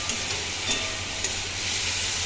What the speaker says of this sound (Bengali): এবার শুধু হবে ভাজা, ফুল ফ্লেমে ভাজা হবে